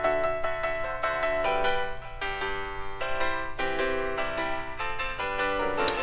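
Solo piano played through a delay effect with different left and right delay times, heard on its own as a wet signal, with repeated notes smearing into a steady, moderately loud wash of echoing tones.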